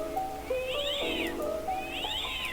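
A cat meows twice in a Minecraft knockoff video game, the same repeated voiceline rising and falling over a steady background game music tone, clear and close with no talking.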